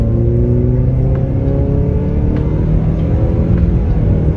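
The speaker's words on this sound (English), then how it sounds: "as far as road noise, you do get a ton of road noise" Road noise inside a 2024 Nissan Sentra SV while driving: a constant loud low rumble and tire whir with a steady engine hum, no talking.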